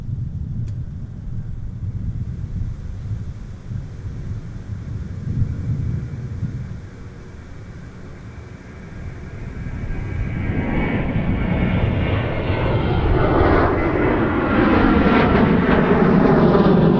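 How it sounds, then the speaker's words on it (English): Sun Country Boeing 737 departing Minneapolis–St. Paul airport in winter; a low engine rumble that swells into a loud, broadening roar over the second half as the jet accelerates and climbs. "here's our Sun Country 737 Tide Pod off to Miami,"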